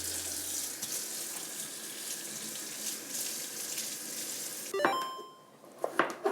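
A tap runs steadily for washing, a bright continuous hiss that stops abruptly, followed by a few clinks and knocks in a quieter room.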